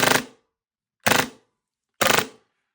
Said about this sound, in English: So if you want to play full auto and absolutely rinse a mag in seconds.